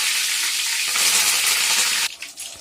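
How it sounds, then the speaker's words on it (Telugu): Curry leaves crackle and sizzle in hot oil for a chicken fry, a steady, close hiss that swells in the middle and then drops off abruptly near the end. "కరివేపాకు కూడా నూనెలో క్రిస్పీగా ఫ్రై అయ్యాక"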